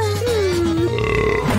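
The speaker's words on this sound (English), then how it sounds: "it's not a competition to see who can burp the loudest" One long, low burp with a gliding pitch, close and loud, stretching over more than a second against a background hum.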